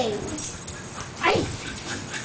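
Several dogs out in falling snow whimper and yip excitedly, with high whining cries and short barks rising and falling close by.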